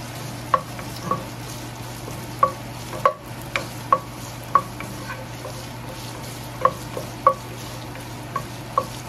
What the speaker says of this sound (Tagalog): So we're gonna be browning the pork.